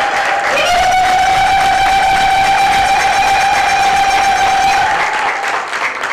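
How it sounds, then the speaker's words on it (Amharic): An Ethiopian church congregation in North America gives a loud, sustained high-pitched ululation over applause, holding steady for several seconds before easing off near the end. "ለነዚህ ሰማዕታት እልል በሉላቸው"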